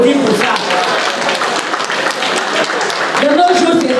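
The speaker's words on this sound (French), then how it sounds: "Est-ce qu'on peut applaudir pour ça?" A crowd at a memorial celebration of life in Paris applauds, a loud dense clapping sustained throughout, close and continuous, with voices calling out over it.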